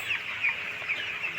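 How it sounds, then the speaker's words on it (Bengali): Chickens with a cold, some sneezing and coughing, cluck steadily in a poultry shed, a close, continuous chorus of short calls with a few louder squawks rising above the rest. "দুই একটা মুরগি হাঁচি কাশি দিচ্ছে।"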